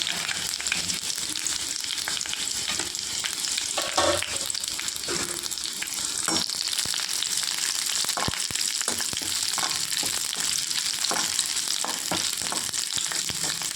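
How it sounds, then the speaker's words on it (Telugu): Gongura leaves and fifteen dried red chillies sizzle steadily in hot oil, a dense continuous crackle with scattered sharper pops and occasional stirring clicks, close and fairly loud with no talking. "ఆయిల్ హీట్ అయిందండి. ఒక కట్ట గోంగూర అండి, 15 ఎండుమిరగాయలండి."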